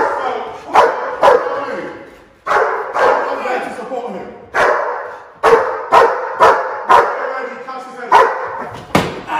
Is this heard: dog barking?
yes